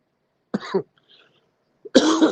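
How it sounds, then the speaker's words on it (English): A single dry cough bursts out, followed after a quiet pause by a second, louder throat-clearing cough, close and loud against silence. "I got this little dry cough."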